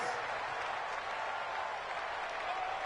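Stadium crowd in a PS4 football video game ahead of a big third down, a steady loud roar of cheering and clapping with faint commentary underneath.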